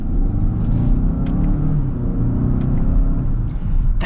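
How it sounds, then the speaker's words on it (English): A 2021 Hyundai Santa Fe Calligraphy accelerating hard, with a steady, loud engine roar rising over a rumbling road drone that holds from start to finish with no voices. "now we're gonna get our full-blown acceleration here with the Santa Fe"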